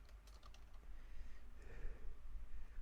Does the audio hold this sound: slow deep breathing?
no